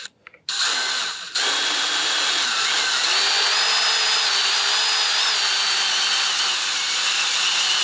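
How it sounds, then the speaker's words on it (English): A small 2mm bit runs in a power drill, boring a pilot hole during a Nissan NV400 van conversion; after a brief start and stop, the motor whines steadily and loud for several seconds with the bit grinding through material. "So drill the pilot hole"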